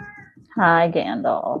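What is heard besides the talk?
cat meowing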